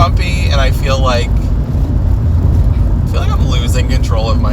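A car driving on a bumpy road in windy weather after rain, a loud continuous rumble of engine and road noise with wind buffeting, while a person talks over it in the cabin.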